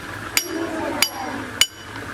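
Three sharp metallic strikes of a single jack hammer on mining drill steel, evenly spaced about half a second apart, close and ringing, with faint background murmur between blows.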